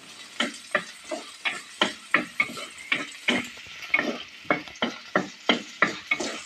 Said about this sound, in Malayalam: നല്ലപോലെ വഴറ്റി എടുക്കണം വഴറ്റി എടുത്തിട്ട് ഇതിനകത്തിലോട്ട് വേണം ഈ പനിക്കൂർക്കടയില എല്ലാം ഇടണം